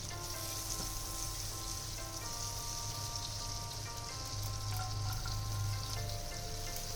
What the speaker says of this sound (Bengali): রসুনটাকে আমি একটু হালকা ব্রাউন কালার করে একটু ভেজে নেব।